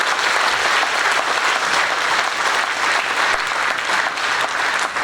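Loud, dense applause from an audience at a regional political meeting in Hagetmau, many hands clapping continuously and evenly throughout.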